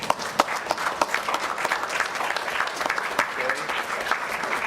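A board of education meeting audience applauds its student athletes, dense sustained clapping from many hands filling the room at moderate volume throughout, with a few faint voices mixed in.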